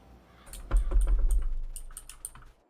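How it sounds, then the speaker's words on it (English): Rapid clacking keystrokes on a computer keyboard, a dense burst of close, steady typing that thins into a few separate taps before stopping, with no speech. "sorry if you guys hear my keyboard in the background"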